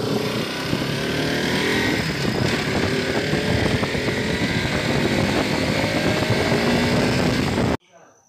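A Bajaj Pulsar RS200 motorcycle being ridden gives off a loud, continuous engine drone mixed with wind rush, then cuts off abruptly near the end.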